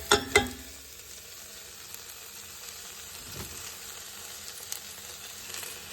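Chopped leeks and a celery stick sizzling in hot oil in a pot: a steady, soft frying hiss with a couple of sharp clatters at the start as the vegetables go in, then occasional stirring sounds.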